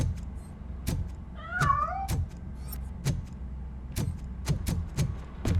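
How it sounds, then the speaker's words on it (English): A cat meows several times in a RoboCop: Rogue City video game scene, wavering cries near the middle over a low engine-like hum and repeated sharp thuds, with no talk. "That cat must be hiding inside."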